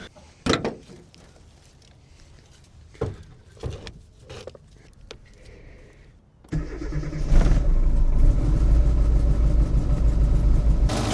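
A Daewoo Lanos car engine cranks after a few scattered clunks and knocks, then catches and runs at a loud, steady idle up close, with no talking over it.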